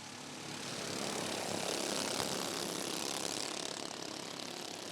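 Race cars at Rockford Speedway surge off a restart during an American Super Cup feature, a dense, steady engine roar that swells within the first second and then holds loud and unbroken with no talk.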